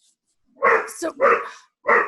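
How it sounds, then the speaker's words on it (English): A dog barks a few times close by, with loud, sharp bursts spaced out over a couple of seconds and a person's voice mixed in. "I apologize for the barking."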